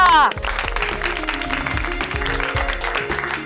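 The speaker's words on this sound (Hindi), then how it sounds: "तालियां" Applause from a crowd of children at a race competition on a TV show, steady clapping layered over tonal music that runs underneath.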